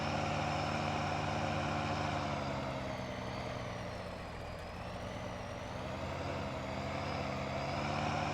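A farm vehicle engine drones steadily while driving in Farming Simulator 19, a continuous rumbling hum with a slight dip in pitch midway, no talk over it.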